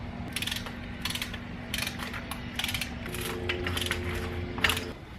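A ratchet tightens bolts to torque spec during misfire repair on a Nissan 350z. Bursts of rapid, close metallic clicking come in several short runs over a faint steady hum.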